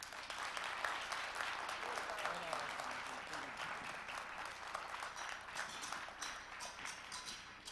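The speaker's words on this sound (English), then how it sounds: "Let's give our panelists a big round of applause." Audience at a Hedera annual assembly in Seoul, South Korea applauding panelists, a sustained wash of many hands clapping that fills the room, fairly distant and steady, tapering slightly near the end.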